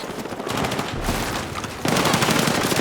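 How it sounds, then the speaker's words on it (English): Rapid bursts of gunfire in Battlefield 6, dense and continuous, growing louder and sharper partway through. "I heard gunshots coming from their"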